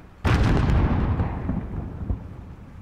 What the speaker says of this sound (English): there's another Alcatala mortar team